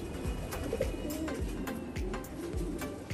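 Soft, repeated pigeon coos sound close by in a regular rhythm, with faint rustling and clicks in the background.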